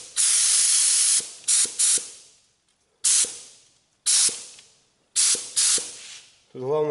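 Spray gun laying down a full coat of red car paint, in repeated loud hissing bursts of about a second each with short pauses between, close up; a brief lower whir follows at the end.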